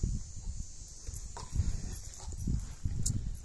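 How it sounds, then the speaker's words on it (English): A dog rolls and plays with a ball outdoors in a summer home garden, giving soft, scattered thumps and scuffles close by over low rumbling background noise, with no talking. "The dog's even rolling the ball in here just so I can pick it up and throw it to him."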